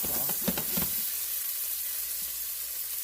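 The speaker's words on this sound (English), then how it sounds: "put them right over here inside of this pan. And just let them heat back up." Precut peppers and onions sizzle and hiss steadily in a hot pan, with a few louder crackles and clatters near the start before settling into a constant fry.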